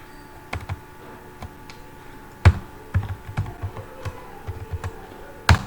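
Keys clatter on a computer keyboard in an irregular run of close, crisp taps, ending with a sharper, louder press of the Enter key, with no talking over it.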